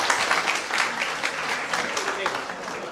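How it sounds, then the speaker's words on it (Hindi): An audience at a motivational talk in a hospital in Ahmedabad gives a brief round of applause, a fairly close wash of clapping hands over about three seconds. "इनके लिए एक बार ताली है"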